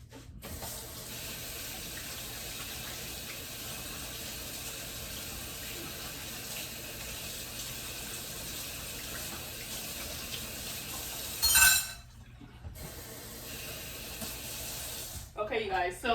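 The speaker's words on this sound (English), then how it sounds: "I'm just cleaning my hands" Running tap water pours steadily into a sink while hands are washed, a continuous close splashing hiss that stops abruptly near the end, with a brief clatter and rustle after, in a home kitchen during brownie baking.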